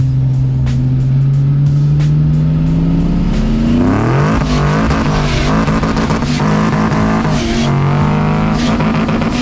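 VL roll racing cars accelerate hard at Supernats 2021, engines droning and then revving upward in pitch with tyres spinning. The sound is loud and close, building into a dense roar as the vehicles pull away.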